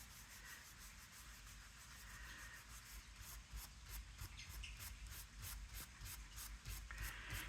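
A lunar paste is rubbed by hand onto a surface, giving a soft, rhythmic scrubbing rasp that repeats in quick, even strokes and grows slightly louder toward the end.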